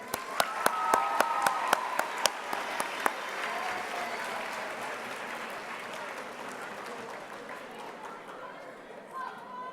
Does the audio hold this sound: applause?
yes